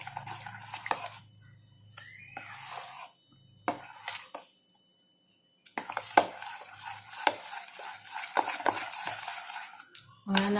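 A spoon stirs salt into thick dhokla batter in a bowl with close, intermittent scraping and clinking strokes, broken by a short silent pause midway.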